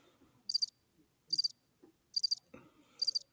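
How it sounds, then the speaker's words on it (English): Crickets chirping in four short, evenly spaced trilled bursts, fairly close in an otherwise quiet night, with a faint low rumble underneath. "minus the crickets"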